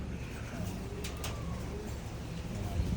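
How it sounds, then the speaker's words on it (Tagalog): Racing pigeons cooing softly in a loft, low rolling coos blending into a steady background murmur with a few faint higher chirps, fairly quiet and continuous. "Walo pa pala sila mga kalapatids"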